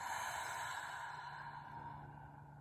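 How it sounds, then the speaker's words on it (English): One long open-mouth exhale during a breathwork exercise, a soft, airy breath sound that holds steady and fades gently over a couple of seconds, close to the microphone with no talking. "Take a deep inhale. Open mouth, exhale."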